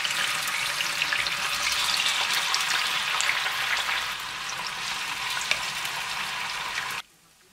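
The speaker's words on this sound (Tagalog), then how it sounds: "Then magpiprito na tayo. Piprituhin natin yung tokwa." Tofu frying in a pan of hot oil, a steady loud sizzle with crackling pops that eases slightly partway through before stopping abruptly.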